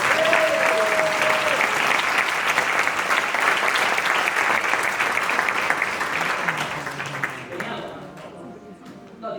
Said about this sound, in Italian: Un grandissimo applauso